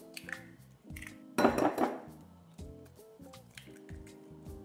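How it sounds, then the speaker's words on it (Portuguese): Two eggs cracked into a bowl for a sugar-free, lactose-free cocoa cake, giving a wet squish and shell clatter midway with light clinks and drips of bowl and utensils around it, close and fairly quiet, no talking. "Aqui em uma vasilha, eu vou quebrar dois ovos"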